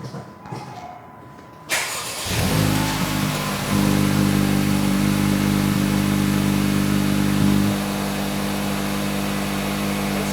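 Two cars, a 2024 Acura Integra and a Honda Civic Type R, idling side by side after the engines fire up, then held at raised revs. The exhaust drone is loud and steady, with a slight step up partway through and no talking.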